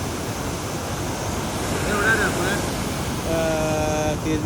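Water from a waterfall, swollen and full, rushes in a steady broad roar with wind buffeting the microphone, and brief whistle-like tones rise above it.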